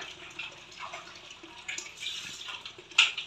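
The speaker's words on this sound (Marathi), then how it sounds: "हे मम्मी हातपाय धुते गरम पाण्याने." Hot water splashes and trickles as hands and feet are washed, with soft irregular pours and a brief sharper splash near the end; no talking.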